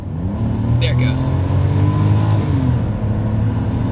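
A Nissan Stagea RS4 all-wheel-drive wagon accelerates hard, its engine note rising steadily and loudly from inside the car, with a person speaking over the engine.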